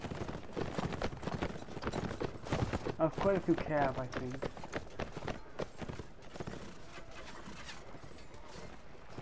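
Cavalry horses gallop into battle in Mount & Blade: Warband, with rapid clattering hoofbeats and clashing mechanisms under someone talking over the game.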